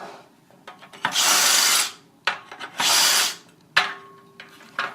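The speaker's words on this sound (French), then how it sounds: "on positionne le gabarit comme ceci et on perce à ce niveau-là" A power drill bores holes through a template into a post, with two long bursts of loud drilling separated by shorter starts, clicks and handling noises, all close by.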